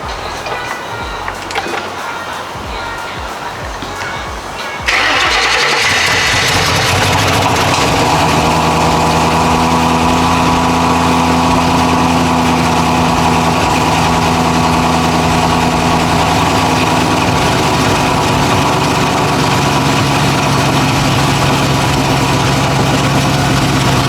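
A Ford Mustang engine cranks and catches after a few quiet seconds, then settles into a steady, loud idle that continues without a break.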